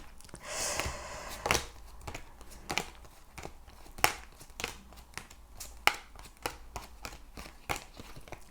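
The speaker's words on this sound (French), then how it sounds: "Je vais juste prendre 2 petites minutes pour remettre les cartes dans le bon ordre." Oracle cards being sorted back into order by hand, a series of crisp slaps, shuffles and rustles at an uneven pace, close up, with no talk.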